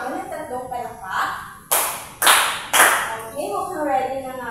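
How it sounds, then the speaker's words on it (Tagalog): A classroom of students claps three times in unison, three sharp, loud bursts evenly spaced about half a second apart, with a teacher's voice talking before and after. "bigyan nyo nga ako ng 3 palakpak"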